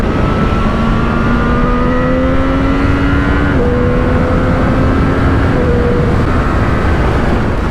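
A Triumph Street Triple 765 motorcycle accelerates hard, its loud, close engine note climbing steadily and dropping at gear changes before rising again.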